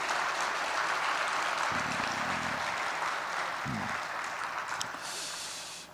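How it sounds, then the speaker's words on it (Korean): A church congregation at a Sunday worship service claps to encourage its young people. The applause is a steady, moderate patter across the hall, with a couple of low bumps and thuds partway through and a gradual fade at the end. "우리 박수로 격려하겠습니다"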